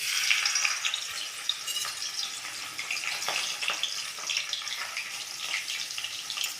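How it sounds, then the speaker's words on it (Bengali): Fish heads fry in hot oil for a muri ghonto, a bright, continuous crackling sizzle with scattered pops, close and fairly loud with no voices over it. "আমি প্রথমে একটা করেই মাথা দিয়ে ভাজবো।"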